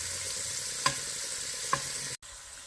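Shrimp frying in a pan, a steady close sizzle with two light clicks of a utensil turning them before a brief cutoff.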